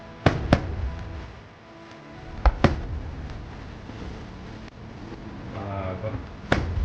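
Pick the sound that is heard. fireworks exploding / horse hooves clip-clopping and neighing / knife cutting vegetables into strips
fireworks exploding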